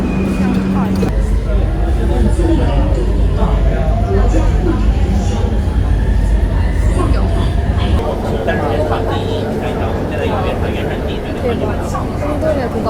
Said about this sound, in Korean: 지하철이 진짜 시끄러워요